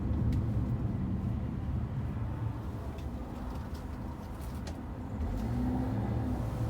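A small light car drives along a road, its low steady engine and road hum sounding from inside, with faint bird coos and chirps in the background and no talking.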